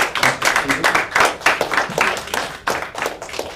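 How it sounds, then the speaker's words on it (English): An audience at an Indigenous education speakers' series gives a round of applause: close, uneven clapping that rises and dips in waves for a few seconds, with no talk over it. "how about a round of applause"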